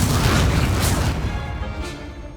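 Confringo fire-spell blasts in the Hogwarts Legacy video game, a loud booming explosion with rumbling low end and a second burst near the end, decaying gradually.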